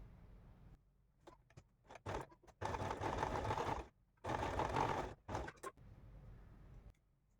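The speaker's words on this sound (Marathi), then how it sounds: "जॉईंट करून घेते याच्यावर शिलाई मारून घेते आता" A sewing machine stitches a joint onto lining for a latkan tassel, running in several bursts of steady whirring, close and clear, separated by brief pauses and small handling noises, with no voices.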